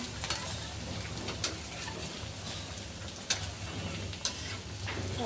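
Onions frying in a pan for a Bengali shrimp and water lily stir-fry, a steady close sizzle with a few sharp clicks of stirring against the pan.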